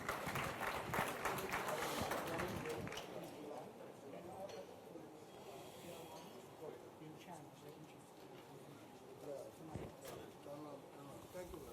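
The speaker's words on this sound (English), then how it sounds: "Let's give him a round of applause again." An audience at a 2014 conference session applauds a speaker, a dense burst of clapping that is loudest at first and then thins into scattered claps and murmuring crowd noise.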